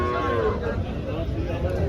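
Cattle fill a crowded weekly cow market in Chalisgaon, among dairy cows of desi, Jersey, HF and crossbred types, with a dense steady crowd murmur, distant lowing and indistinct voices throughout.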